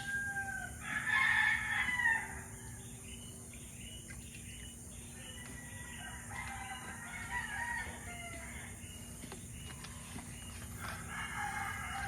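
Chickens give a few faint, scattered clucks and a brief crow, with a steady chorus of crickets and a low hum running underneath throughout.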